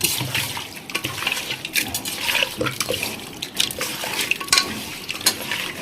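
Chicken pickle being stirred together with ginger garlic paste, curd and chili, giving a steady wet squelching and slopping of a thick mixture, close and continuous, with no talking.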